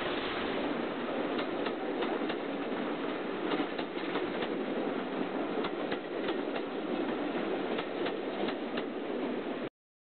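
A War Department steam locomotive hauling a train toward Totnes on the Dart Valley Railway in Devon, a steady chuffing and rhythmic clatter running continuously, then cutting off abruptly at the end.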